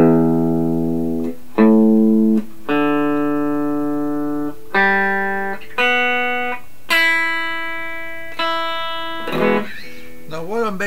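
Electric guitar strung with Ernie Ball Cobalt strings, played as a series of clean single notes and bends with brief gaps between them, close and fairly loud, with some faint talking underneath.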